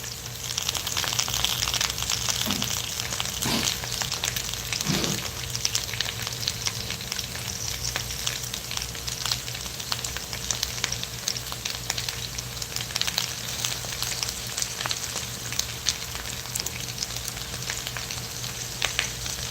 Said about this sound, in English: When you're frying aloo, fry it up so nice.